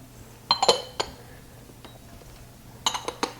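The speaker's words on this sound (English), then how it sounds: "We're going to stir this together" A spoon clinks against a dish while broccoli is stirred with oil, salt and pepper, giving a few sharp clinks in quick clusters with quiet gaps between them.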